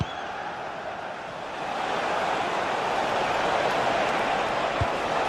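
A stadium crowd in the video game GT Sports swells from a steady roar into louder sustained noise, a dense continuous wash with no clear breaks.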